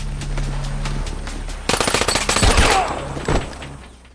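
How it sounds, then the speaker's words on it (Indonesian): Rapid bursts of machine gun fire crackle loudly over a low background, the shots coming in quick rattling strings before tapering off. "Mendengar suara tembakan, Joe dan Baptiste langsung membantu Estrella"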